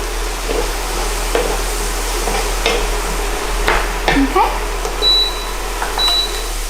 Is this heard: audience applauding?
no